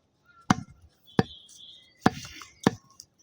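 A cleaver chops through a cow's leg of beef in four heavy, separate blows, each a sharp close thud with a short ringing tail, the strokes irregularly spaced with quiet gaps between them.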